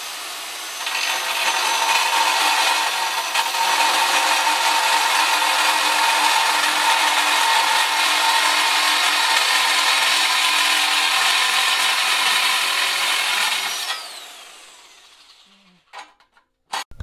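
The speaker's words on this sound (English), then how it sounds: "we are going to cut along these lines and bend it so it can fit the upper wheel" A power tool cuts metal along marked lines for a Razor E100 electric scooter modification, giving a loud, steady grinding whine for about thirteen seconds that then winds down, followed by a few light clunks.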